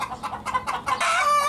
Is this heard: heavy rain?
no